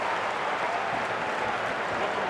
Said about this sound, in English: the crowd are up on their feet for the first time today